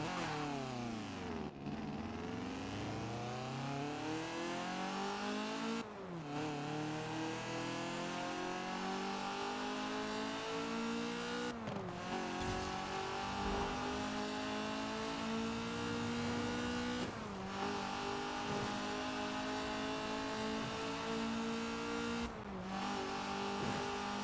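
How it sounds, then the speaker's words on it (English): A Ford GT70 in the Forza Horizon 4 racing game revs up through the gears in repeated rising sweeps, each climb cut by a brief shift dip, a continuous engine howl with no talk. "I'm going to let you guys listen to the car."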